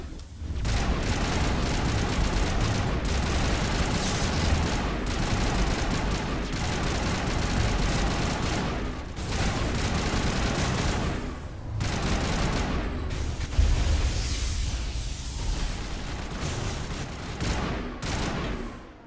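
Sustained, dense gunfire from a Mass Effect firefight against Geth on Noveria, with rapid overlapping shots and booms running almost continuously at high level, dipping only briefly before resuming.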